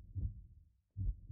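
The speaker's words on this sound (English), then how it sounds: "you soon find your heartbeat slowing, the panic subsiding" Two heavy low heartbeat thuds from the Choices: Stories You Play game, 'It Lives Beneath', a short gap between them, muffled and alone with no talk.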